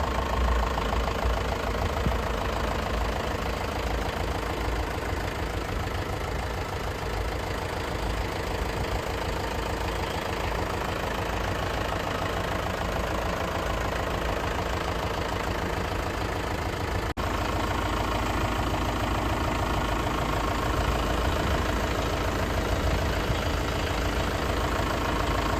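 A Mahindra Arjun Novo 605 DI tractor engine idles with a dense, unbroken, rough diesel rumble for about twenty-five seconds, loud and close, with no voices.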